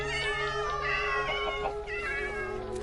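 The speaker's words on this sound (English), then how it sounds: "Run, little kitties, run!" Several cats meow in the video game Minecraft, overlapping high, drawn-out cries repeating close and loud over a steady background hum, with no speech.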